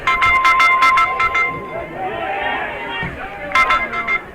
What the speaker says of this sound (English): There's my phone ringing.